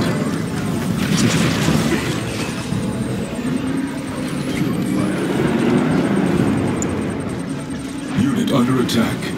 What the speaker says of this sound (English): Tiberium explosion detected.